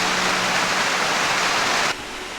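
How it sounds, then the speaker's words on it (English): Small waterfall tumbling beside a hiking trail on a Georgia mountain, a steady broadband rush of falling water heard close and loud, dropping to a quieter level near the end. "apparently there's a little waterfall here right along the side of the trail here"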